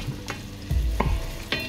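Onions frying in butter in a pan, with a steady low sizzle broken by a few sharp scrapes and stirs, close and moderately loud, no talking.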